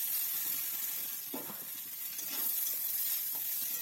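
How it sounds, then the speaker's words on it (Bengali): Eggplant and neem leaves frying in hot oil in a home kitchen, giving a steady, close sizzle with a few soft stirring scrapes and no talking. "এবার আমি নিম পাতাগুলো ভাজা হয়ে গেলে বেগুনগুলো দিয়ে দেবো।"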